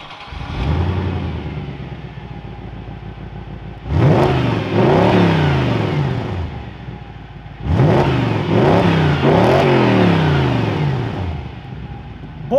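An Audi S4 V8 idles close by, then blips into two strong revving bursts, each swelling loudly and dropping back to a rumbling idle between them.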